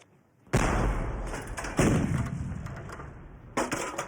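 Gunfire in a war film set during the Lost Battalion episode, heavy booming shots arriving in three bursts with rumbling low-end decay between them, loud and close.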